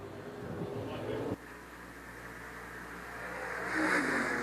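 Stock cars race at Shelby County Speedway, a low continuous engine roar with a sudden drop partway through, then building again as cars pass, heard at a distance, under a race announcer's commentary.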